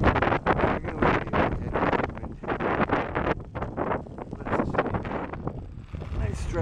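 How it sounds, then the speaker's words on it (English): Strong gusts of wind buffet the microphone in loud, uneven bursts on a rail trail through cornfields, roaring and rumbling with brief lulls between them. "it's freaking windy"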